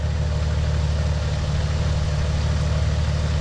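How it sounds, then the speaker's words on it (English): A car engine idles steadily after a fresh oil change, a deep low rumble that stays close and even throughout with no talking. "So let's run the engine."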